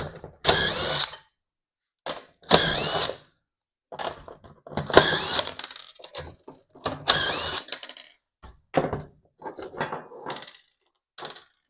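A power tool or ratchet removes four 10 mm nuts from the bracket of a BMW 530e safety box, in repeated short whirring bursts with brief pauses between them, close and fairly loud.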